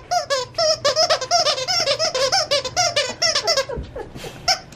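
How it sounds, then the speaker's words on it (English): A squeaky dog toy squeaks over and over in rapid, rhythmic bursts, loud and close, with a quieter rattle near the end and no talking. "somebody found the squeaker"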